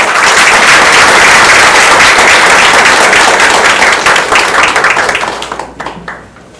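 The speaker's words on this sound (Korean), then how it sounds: "큰 박수로 맞이해주십시오" Loud, dense applause from an audience welcoming a university president to the stage at a lecture event, sustained for several seconds before thinning into scattered claps and fading out.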